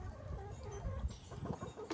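Backyard chickens clucking close by, a steady run of low murmuring clucks and soft calls from a small flock, with no talk over it.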